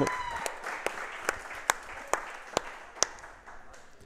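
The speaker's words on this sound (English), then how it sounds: "let's give a round of applause for Georgetown Eagle head football coach Jason Dean" Applause for a high school head football coach at a coaches show event, a steady round of clapping from a modest crowd with a few sharp individual claps standing out, lasting throughout.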